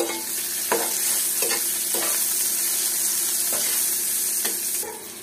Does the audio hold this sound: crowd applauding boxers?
no